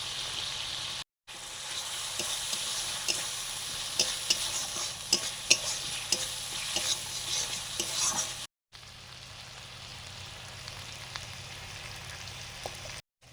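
Spices for egg curry being sautéed in a pan give a continuous close sizzle with regular scraping stirs, interrupted by two brief cuts to silence, and no voices.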